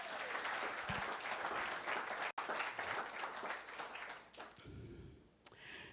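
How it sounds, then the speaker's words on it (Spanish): Church congregation gives a loud, sustained round of applause for the Lord, dense clapping filling the room and tapering off near the end. "Denle un fuerte aplauso al Señor"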